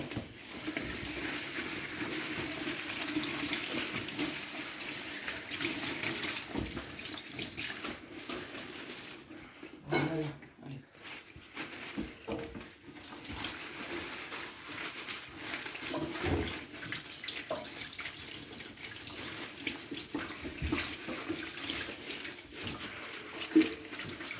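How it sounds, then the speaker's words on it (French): Spinach leaves rinsed under a running tap, a steady, fairly quiet stream of water with a brief splashy break midway, heard alone without speech. "j'amène des épinards pour que je puisse les rincer"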